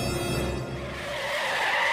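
A car skids hard through a wall in a crash, a loud, continuous rush of tire squeal and engine noise that holds steady for about two seconds with no voices.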